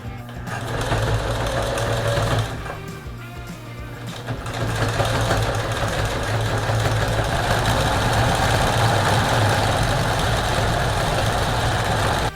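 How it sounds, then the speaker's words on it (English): A sewing machine runs steadily while stitching canvas strap ends for a wall tent, its motor humming loud and continuous with a brief slowdown partway through. "what I'm doing is I'm sewing one end right after another"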